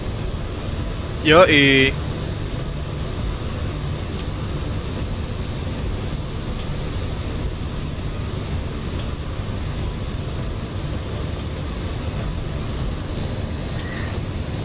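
Steady low engine drone of a low-flying Airbus in Microsoft Flight Simulator, continuous and even throughout, with a brief voice exclamation early on.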